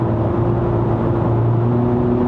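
Infiniti Q50 2.0T GT engine droning steadily from inside the cabin as the car shifts gear, a continuous low hum with a slight change in pitch partway through.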